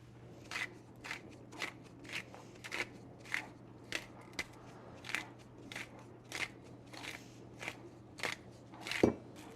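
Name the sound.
mixing sourdough with salt and flour, kneading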